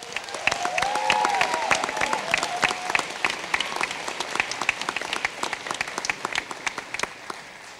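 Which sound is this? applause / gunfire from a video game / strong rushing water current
applause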